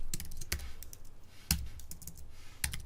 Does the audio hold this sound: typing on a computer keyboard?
yes